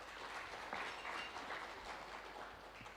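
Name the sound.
audience applause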